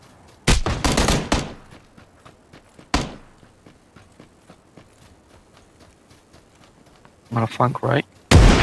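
Gunfire in a multiplayer shooter video game: sharp bursts of close shots, a single loud report, and further volleys near the end, with someone talking briefly between them.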